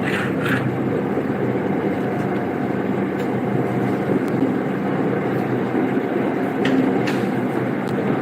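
Steady rumbling drone of a Bangkok Red Line electric commuter train in motion heard from inside the carriage, with continuous rolling noise and a few faint clicks.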